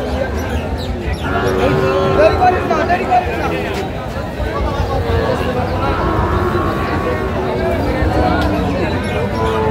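Shahiwal bulls and calves at a cattle market in Brahmanbaria, with several low moos rising through a busy crowd; people talk throughout over the ongoing chatter.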